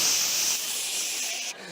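A voice imitates a long hairspray spray, a steady close hiss that holds for over a second before cutting off abruptly.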